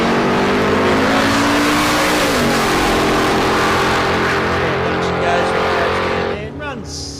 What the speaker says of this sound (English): So Greg Dutchy Hollard, 350 Chev under the bonnet of the Holden HQ 1 tonner.